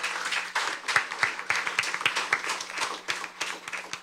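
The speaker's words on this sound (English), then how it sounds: "Give yourselves a round of applause" Studio audience at a junior science quiz show clapping, a moderate burst of individual handclaps with distinct rhythmic claps standing out against a low steady hum.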